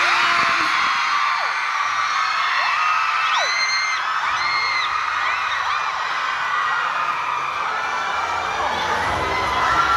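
A large audience at a university open house stage event cheers, whoops and yells continuously, a dense steady roar of voices with high shouts rising over it.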